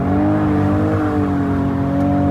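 A rebuilt 2021 Ford Bronco's engine drones loudly and steadily close by, its pitch rising slightly as it revs, with no voices.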